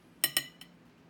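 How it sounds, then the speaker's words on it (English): A balut duck egg set down on a plate, giving two quick, bright clinks close together followed by a fainter third tap, crisp and near in an otherwise quiet room. "place it on the plate."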